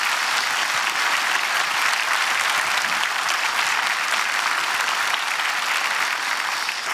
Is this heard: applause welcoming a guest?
yes